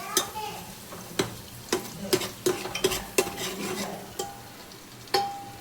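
Crushed garlic, ginger and coconut fry in hot oil, producing a steady sizzle broken by repeated sharp clicks and scrapes of a spoon stirring in the pan, close and moderately loud, with no talking.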